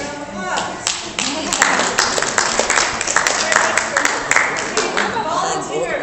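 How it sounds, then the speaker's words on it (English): An audience at a 10th annual celebration applauds board members, a dense burst of clapping that swells quickly and holds for several seconds before tapering off. "So everybody else, give them a round of applause."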